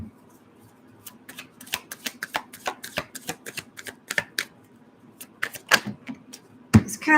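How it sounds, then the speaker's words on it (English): A deck of playing cards is shuffled in quick, irregular bursts of crisp riffling clicks and snaps, close and fairly loud against a quiet room, with a few heavier slaps near the end. "I'm saying no as in stop shuffling."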